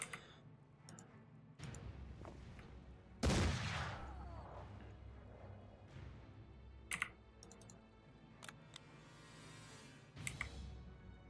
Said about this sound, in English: I know you love shooting your gun.